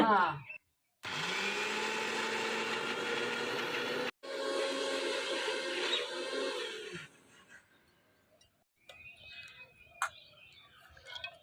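An electric mixer grinder blending dal and rice together, loud and close, whirring in two long bursts separated by a brief stop, then winding down into quiet with some faint clicks.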